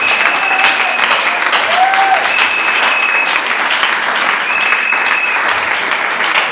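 A church congregation bursts into sustained, loud applause and cheering during a sermon, a dense wash of clapping filling the space throughout with voices mixed in.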